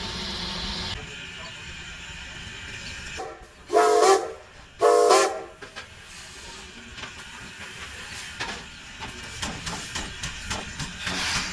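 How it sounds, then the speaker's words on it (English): The Strasburg Railroad steam passenger train departs, two loud whistle blasts ringing out over a steady hiss of steam, followed by rhythmic chuffing that builds as the engine pulls away. "But it is a steam engine and a passenger ride"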